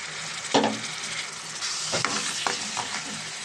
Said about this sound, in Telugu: ఇది కూడా కొంచెం పచ్చివాసన పోయేదాకా మనం ఫ్రై చేద్దామండి